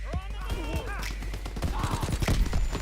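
Type 100 submachine gun fire in Call of Duty WW2 rattles in rapid bursts with dense repeated cracks, while a voice talks over the gunfire.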